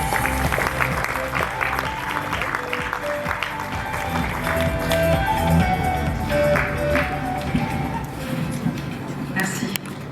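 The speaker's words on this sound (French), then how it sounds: "On vous applaudit." Audience applause fills a conference hall at an economic forum in Haut Bugey, steady and sustained throughout, with voices talking over it.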